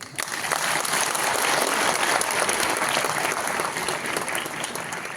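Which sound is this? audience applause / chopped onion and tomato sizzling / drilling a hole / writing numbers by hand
audience applause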